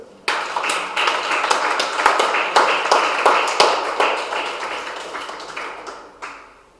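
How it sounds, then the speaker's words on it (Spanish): An audience claps loudly and steadily at a church sermon, a dense run of handclaps with a few sharper accents that fades out toward the end. "Denle palmas fuertes."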